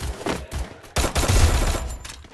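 Rapid gunfire bursts in the mobile battle royale game Free Fire, loud and close, with a short pause before a heavier, denser volley and trailing shots.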